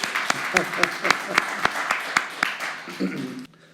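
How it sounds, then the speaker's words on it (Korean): Audience in a Korean church service clapping for the Sunday school middle and high school students, a short burst of applause with distinct sharp claps, a voice briefly heard near the end before it stops. "우리 주일 학생들을 중고등부 학생들을 위해서 박수 한번 칩시다"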